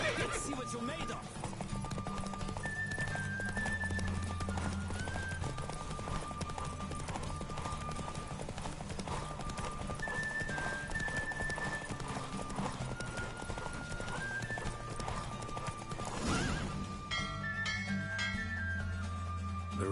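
Hooves clop rapidly as a horse gallops in a race in The Witcher 3, a fast steady rhythm under game music, with a whinny and a voice shouting during the run.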